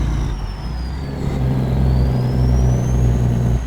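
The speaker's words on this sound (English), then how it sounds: "Like, that is half decent of an engine brake, I do have to say." A Cat engine brake on a Peterbilt 567 truck in American Truck Simulator, a loud, steady low rumble with a rising and falling whine, close and alone.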